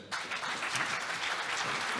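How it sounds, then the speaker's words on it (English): Audience applause for the participants of a school debate, a dense, steady round of clapping from a crowd that starts abruptly and holds at an even level throughout. "a big round of applause for all of them"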